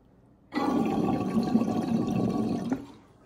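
Water rushes through a flooded glass water pipe, filling its chamber with a steady gurgling flow that starts abruptly, holds for about two seconds, then cuts off and fades.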